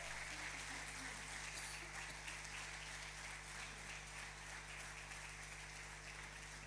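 A church congregation gives the Lord a loud round of applause during morning worship, steady clapping filling the room at an even level over a low hum, with no voices rising above it.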